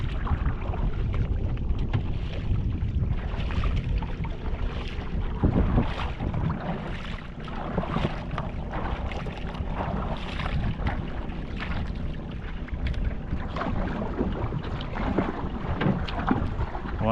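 A small boat moving on open water, with a steady broadband wash and wind buffeting the microphone throughout, no voices.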